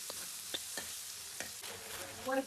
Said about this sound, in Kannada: ಇವಾಗ ಈರುಳ್ಳಿ ಸ್ವಲ್ಪ ಸಾಫ್ಟ್ ಆಗೋ ತನಕ ರೋಸ್ಟ್ ಮಾಡ್ಕೋಬೇಕು ಗೈಸ್